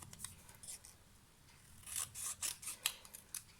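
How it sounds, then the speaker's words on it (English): Several crisp snips of scissors slicing through paper, close by, arriving in a quick irregular burst after a quiet stretch with a faint rustle. "let me get my scissors"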